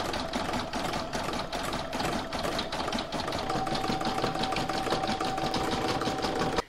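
Embroidery machine sewing a satin stitch around a heart on a quilted placemat, a fast, steady needle rattle with a thin sustained whine, close and uninterrupted until it halts at the end.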